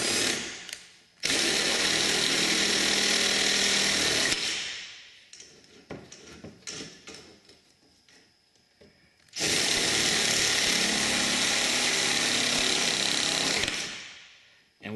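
A power drill bores a half-inch hole through a part for an Affordaplane ultralight aircraft build. It runs in two loud, sustained whirring bursts with a stop-and-start section of shorter grinding and clicks between them, all close up.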